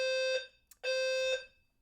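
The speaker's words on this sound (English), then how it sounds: "I'll be back, because that's my fire alarm." A fire alarm going off during a Dead by Daylight gaming stream, sounding as loud, steady electronic tones in repeated pulses of about half a second with short gaps between them, with no talking over it.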